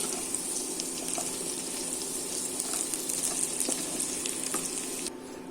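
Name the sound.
potato cubes frying in leftover oil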